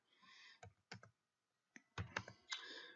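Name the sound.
typing a password on a computer keyboard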